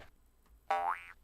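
A single springy boing from the 1997 Living Books game Arthur's Reading Race, played as a jump effect: one bright bouncy twang, sliding up and then down, clear and close after a brief quiet moment.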